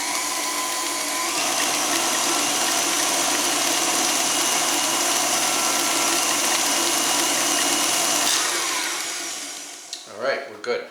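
An electric mixer whirs through pumpkin bundt cake batter with a loud, steady motor drone for about eight seconds, then winds down and stops, and a person briefly speaks afterward.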